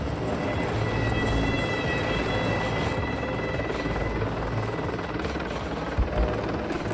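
A CH-53 Super Stallion heavy-lift helicopter, its rotor and turbine roar steady and loud throughout, with a constant whine over the broad rumble.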